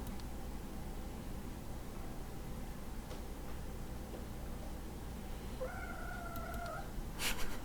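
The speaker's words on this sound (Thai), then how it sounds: "แมวโวยวายหาคนเล่นด้วยค่ะ" In the horror game I'm on Observation Duty, on a rainy night, a cat gives a faint, drawn-out wavering meow near the end, over a steady low hiss of rain and background hum.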